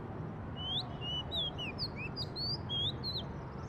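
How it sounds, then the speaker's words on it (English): Songbirds sing in quick, bright chirps and trills, a string of short whistled phrases repeating over a soft, steady background hiss. "Let's take the example of songbirds singing."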